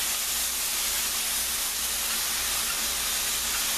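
Tomatoes go into a hot pot of seasoned vegetables and beef flanken, setting off a loud, steady hiss that runs unbroken for the whole stretch with no one talking.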